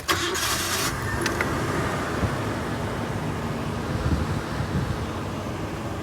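A JDM Nissan Laurel fires up outdoors, a brief cranking burst settling at once into a steady, rumbling idle heard over wind buffeting the microphone.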